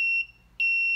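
Two loud electronic beeps from an obstacle proximity warning, each a steady high tone lasting about half a second with a short gap between, close and clear with no talk.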